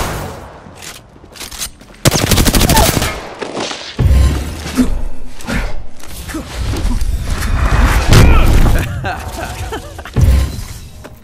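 Gunfire in a video game, with loud bursts of shots and sharp impacts in repeated clusters over a busy game soundscape, and a player talking over the action.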